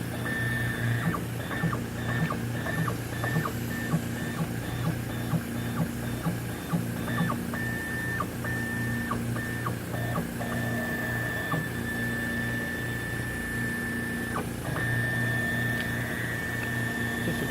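A Rucker & Kolls 681A wafer prober stage with freshly lubed lead screws steps between programmed positions: a steady mechanical hum and whine with a series of rhythmic clicks and ticks, close and alone.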